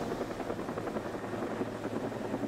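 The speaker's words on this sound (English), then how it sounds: "When the helicopter's bringing it in." A helicopter on a lift job, carrying a load in on its hook, gives off a continuous low rotor thump and engine drone, fairly distant and steady, with no voices over it.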